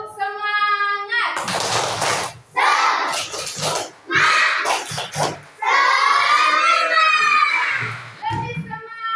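Indonesian schoolchildren in a classroom perform the rhythmic 'tepuk semangat' clapping chant, a loud group of young voices shouting in unison with bursts of claps, close and continuous.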